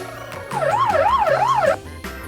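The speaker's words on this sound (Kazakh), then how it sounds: "Полиция көлігі." A police car siren wails loudly and close, its pitch sweeping up and down in a quick repeating cycle with no talking.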